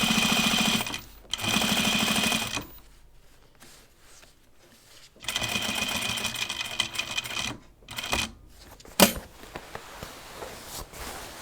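A sewing machine stitches a pair of jeans in bursts of steady, rapid whirring, stopping and starting several times with short quiet gaps and a sharp clack near the end.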